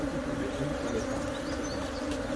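Honeybees buzz around an opened hive during colony splitting, a dense steady hum of many bees close by, continuous for a couple of seconds without talk.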